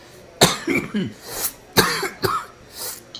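A man coughs several times in sharp, loud bursts, with short pauses and some throat rasping between them, close to the microphone.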